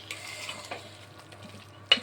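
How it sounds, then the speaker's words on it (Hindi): Carrot halwa with ghee being stirred in a pan gives soft scraping and light sizzle through the clip, ending in a brief sharp clink of utensil on metal. "घी डाल के फिर सबको अच्छी तरह से मिक्स कर देंगे"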